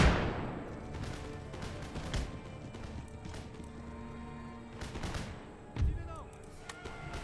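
Musket volley fire in Empire Total War, a few sharp distant gunshot cracks scattered over a busy battlefield din with hoofbeats and a voice talking over it.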